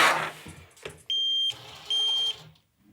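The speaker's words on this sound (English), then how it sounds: "that is a realistic backup sound" Reversing beeper on an RC semi truck: two loud, steady electronic beeps, each about half a second, separated by a short gap, over faint motor and handling noise.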